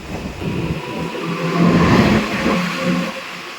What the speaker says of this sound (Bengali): এই যে দেখো ট্রেন চলে এসছে